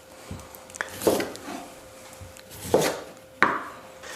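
A knife peels the skin off a beetroot on a cutting board, with irregular scraping strokes and a few sharper knocks against the board, close and quiet, with no talk.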